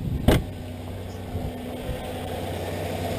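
A 1999 Nissan Altima engine idling after an alternator replacement, a steady low hum with a brief sharp knock near the start and faint clicks over the even drone.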